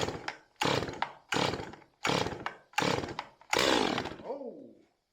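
A Neotec NS 846 chainsaw is pulled over repeatedly with the choke on, producing five short bursts of sputtering engine noise separated by brief gaps, then a longer catch that revs and winds down.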